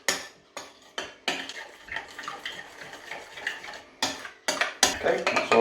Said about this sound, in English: So into the yoghurt, 250 grams of natural yoghurt, goes the spice blend. Give that a good mix.